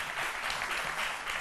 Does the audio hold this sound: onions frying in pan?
no